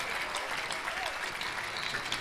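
A church congregation at a prayer service claps in a steady wash of applause, continuous and moderately distant, with a faint voice underneath.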